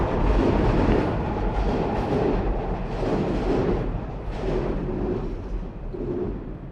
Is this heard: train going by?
yes